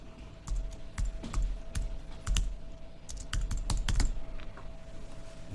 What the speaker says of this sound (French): Et je vais taper n'importe quoi.